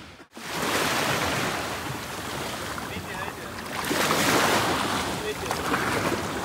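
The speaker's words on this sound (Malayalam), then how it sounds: "ആ വരുന്നതാണ് നമ്മുടെ ബോട്ട്" A glass-bottom boat approaches across sea waves off Lakshadweep, heard as continuous loud wash and surf with gusty wind buffeting the microphone, with some voices mixed in.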